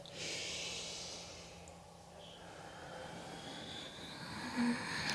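Slow, soft breaths are drawn in and let out during a vinyasa yoga flow, a faint airy inhale followed by a gentle exhale against a quiet room.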